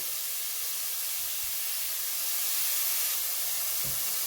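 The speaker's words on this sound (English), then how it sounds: "steak's been searing in this hot oil" Steak searing in hot oil on high heat for a Philly cheese steak, a steady broad hiss of sizzling fat that swells slightly partway through, with no voices over it.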